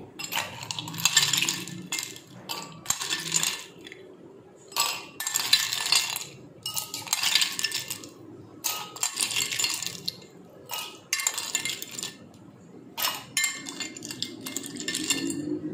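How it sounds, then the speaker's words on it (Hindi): Ice cubes drop into two drinking glasses for imli aloo bukhara sharbat, giving a series of bright clinks and rattles in irregular bursts, each followed by a short pause, heard up close. "तब हम 2 गिलास लेंगे और उसके अंदर आइस क्यूब्स डालेंगे"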